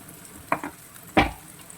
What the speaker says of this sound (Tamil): இது கொஞ்சம் ஃப்ரை ஆகட்டும்.